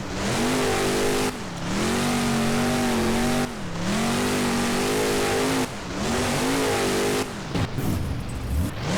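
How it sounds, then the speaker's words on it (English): El Toro Loco monster truck does a donut in BeamNG on a beach freestyle course, its engine roaring loud and close in long sustained revs with pitch swoops, broken by three brief lifts off the throttle. "Pretty good donut from El Toro Loco"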